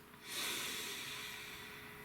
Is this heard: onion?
no